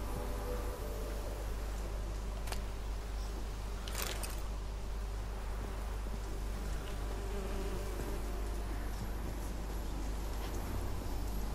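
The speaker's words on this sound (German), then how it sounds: "Bienen und ein Nest." Bees buzz around a nest in The Witcher 3 video game, a steady insect drone over constant background ambience with a couple of brief louder swells, no voices.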